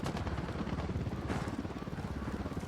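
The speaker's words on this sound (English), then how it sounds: "Oh, that chopper is out for blood." A helicopter in the Ghost Recon video game thunders overhead in a dense, continuous roar mixed with rattling gunfire, loud and unbroken throughout.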